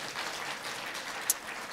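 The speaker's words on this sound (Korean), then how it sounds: "박수 한번 하겠습니다." Congregation applause at a Sunday church service, a steady wash of many hands clapping at moderate distance for 2 seconds with one sharper close clap near the end.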